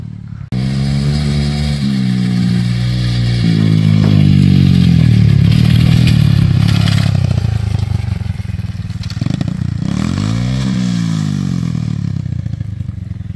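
A child rides a dirt bike while its engine revs loud and close, rising and falling in pitch through gear changes and continuing steadily throughout.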